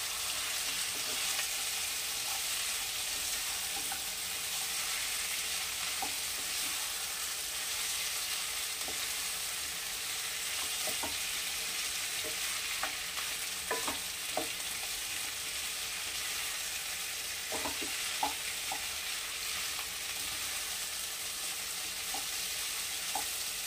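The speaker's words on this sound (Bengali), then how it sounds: "এবার এটা একটু নাড়াচাড়া করে নেব।" Mixed vegetables sizzle and fry steadily in a pan while a utensil stirs them, with soft scraping clicks scattered over the continuous hiss, close and alone with no talking.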